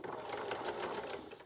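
A domestic sewing machine back-stitches the seam of a fabric face mask, a steady close whirring hum with fast rapid needle clatter running continuously and evenly throughout.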